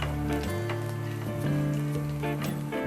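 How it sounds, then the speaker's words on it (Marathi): Cumin seeds and chopped green chillies sizzle steadily in hot oil in a pan, a close, dense crackling hiss that runs unbroken with no voices over it. "लाल होईपर्यंत आपण त्याला परतवून घेऊ व्यवस्थित."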